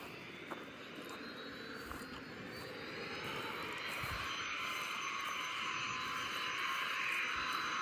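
A fixed-wing airplane at a small local airport hums in the distance, its engine drone slowly growing louder and steadier over several seconds, with no talk.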